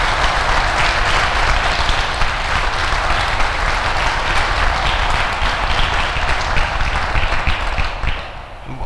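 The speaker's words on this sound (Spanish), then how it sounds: "démosle un aplauso de recibimiento al Espíritu Santo de Dios" Applause from an audience welcoming the Holy Spirit during a Christian worship gathering at a school, a loud, dense, steady wash of clapping that fills the whole stretch and tapers slightly at the end.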